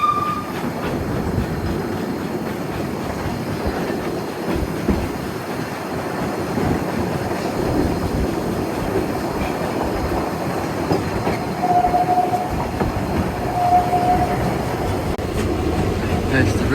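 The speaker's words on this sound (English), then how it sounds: "So here we are, pulling out of Castleton Station." A steam train on the Isle of Man rumbles and clacks steadily as it pulls out of Castletown Station, with faint wheel squeals and people talking over the noise.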